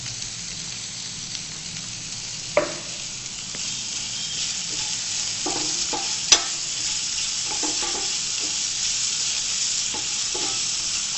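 Finely chopped large onion frying in hot oil with fennel seeds for katti roll filling, a soft continuous sizzle with a few light clicks of stirring, no voices.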